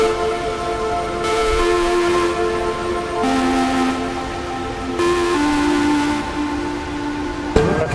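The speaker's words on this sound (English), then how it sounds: "we are taking the tram up to the peak" Hong Kong Peak Tram climbing a very steep track up to the peak, a continuous loud mechanical drone with sustained whining tones that shift in pitch in stepped stages, ending with a sharp clunk.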